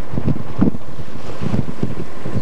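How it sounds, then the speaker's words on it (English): Gusty wind buffets a charter sailboat off Carriacou, Grenada, in the morning, coming as uneven low rumbling bursts that rise and fall against the microphone, with no voices. "It's windy."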